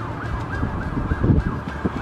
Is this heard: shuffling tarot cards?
no